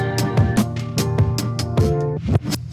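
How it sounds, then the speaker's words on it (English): A reversed boom-bap hip-hop beat loop in a tape-rewind style. Drum hits swell backward into abrupt cutoffs at a steady rhythm over a sustained tonal bed, loud and upfront. "So it gives you that tape rewind effect."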